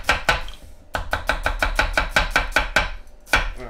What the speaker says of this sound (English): onion's all chopped up